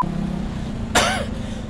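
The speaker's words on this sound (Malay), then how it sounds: "Batuk pula." A single short, sharp cough from a person close by, breaking abruptly over a steady low engine hum with a faint tone in the background.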